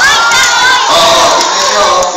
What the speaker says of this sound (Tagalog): Mauuna ang Girl Scouts kasi maraming sumisigaw na girls